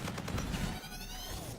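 Rapid gunfire from a weapon with no grip, stock or silencer in the shooter game Infinite Warfare, a dense burst of shots running through most of the clip before tapering off, with no talk.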